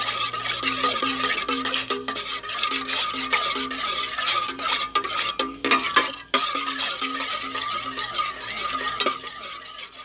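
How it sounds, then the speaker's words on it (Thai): Curry paste stir-fried in a pan gives a loud, busy sizzle, with repeated scraping strokes of a spatula against the metal and no talking. "ผัดอันเครื่องแกงก่อน"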